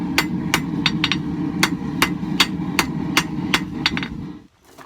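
About a dozen sharp, ringing hammer blows strike a steel knife blank at an uneven but steady pace, close and loud, then stop into near silence.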